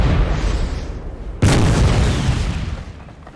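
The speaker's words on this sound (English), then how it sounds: "These guns are firing." Artillery cannons fire in a Napoleon Total War battle, a deep rumbling boom over a constant low battlefield roar, followed by another sharp, heavy blast that rolls off slowly.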